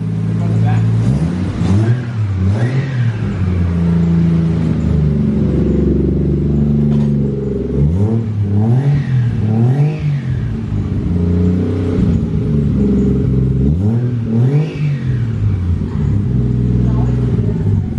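A Toyota 1JZ engine in a car idles loudly and close, then rises in several repeated revs that climb and fall, with people talking over the engine.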